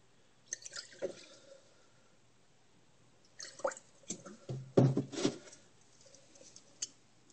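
Muriatic acid and bleach solution drips and splashes as gold is rinsed off a filter into a jar, a few quiet, scattered drips and squishy spatters close by.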